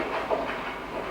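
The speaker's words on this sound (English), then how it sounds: "But I'm on a train." Steady rumble and rolling clatter of a moving passenger train, heard from inside a carriage as a continuous, fairly even drone with faint rhythmic clicks.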